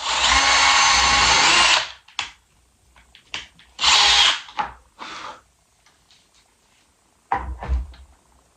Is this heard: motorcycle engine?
no